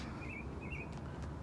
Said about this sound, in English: Excuse the birds over there.